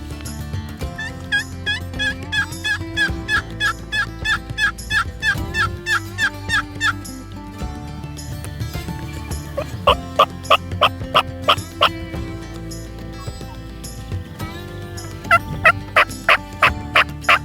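Repeated wild turkey gobbles ring out in loud bursts from a hilltop during an early-season Iowa turkey hunt, several clustered runs separated by pauses, carrying clearly over a steady low background hum.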